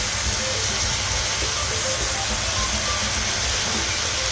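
Crispy noodles stir-fried in a single wok, a loud continuous sizzling hiss with rough clatter underneath that runs the whole time.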